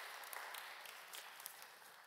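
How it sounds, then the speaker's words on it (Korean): A church congregation claps to welcome newcomers, a steady, dense round of applause that carries evenly through the whole stretch without pause, with no speech over it. "여러분 크게 박수로 환영하시지요"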